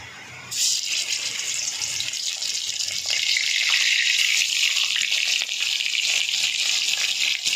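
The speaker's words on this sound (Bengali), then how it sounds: "এবার আমি মাছগুলো ভেজে নেব" Steady, loud hiss and crackle of small fish frying in oil in a wok that starts suddenly after a brief quiet moment and continues unbroken, with no voices.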